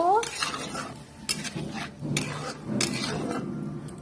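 Water poured into a pan of tengra fish curry sets off a close, steady sizzle and bubbling with scraping and stirring clatter, several sharp splashy bursts rising and falling over four seconds, no talk.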